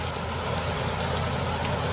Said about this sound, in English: this rain look pick right back up